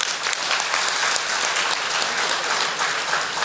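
Dense, steady applause from a large audience at the Madurai Book Fair fills the whole stretch, loud and even with no voices standing out.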